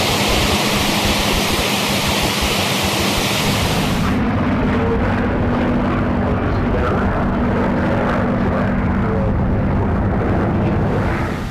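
A P-51C Mustang's piston engine drones loud and constant from inside the cockpit, a dense continuous roar with a steady low hum, a hiss at the start dropping away after a few seconds.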